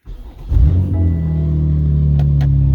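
A BMW X3 M's engine cranks briefly, then catches with a loud, deep roar and settles into a strong, steady rumbling idle close by.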